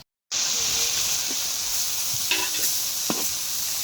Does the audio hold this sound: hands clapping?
no